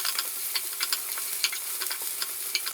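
Chopped vegetables tipped into a pan for quinoa pulao, giving a bright, hissing sizzle with quick clicking stirs and scrapes, close and steady over a short stretch.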